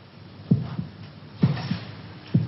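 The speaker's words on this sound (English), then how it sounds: "Can you hear your heart beating?" A slow, muffled heartbeat pulses three times, each beat a soft low double thump, close and steady over a quiet hiss.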